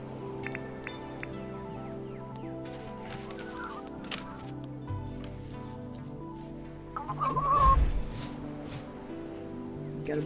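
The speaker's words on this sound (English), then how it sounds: "Gotta brush those chickens." Chickens in the video game Dinkum clucking softly over steady game music and ambience, with a brief louder burst of activity near the end.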